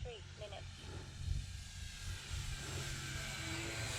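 A model Air Tractor airplane flies over a runway, its engine a steady, moderately distant drone and broadband whine that holds through the clip along with wind noise.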